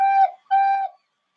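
A recorder blown straight into the top gives two clear sustained notes separated by a short gap, close and loud, then stops.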